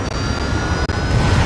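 Airplane engine droning steadily in the video game Resident Evil 6 during an air raid, a dense broadband roar with a brief dip partway through, no voices.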